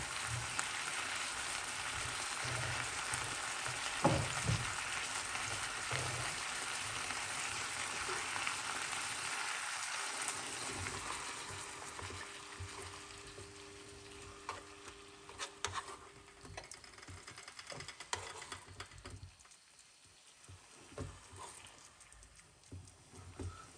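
Fish cooking down in butter in a pan gives a steady, close sizzle and frying hiss that runs throughout, easing off somewhat near the end, with occasional light stirring and clinks and no speech over it.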